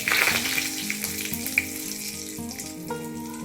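Bengali five-spice seeds and bay leaves hit hot oil for a pumpkin and potato dish, a sharp, loud sizzle that crackles close by and settles into a steady fry, no talking.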